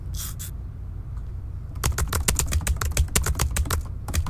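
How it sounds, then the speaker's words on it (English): Typing on a computer keyboard: after a quiet start with a couple of faint taps, a fast, dense run of crisp key clicks follows close to the microphone, with no talk. "Look, Daddy, I'm typing things!"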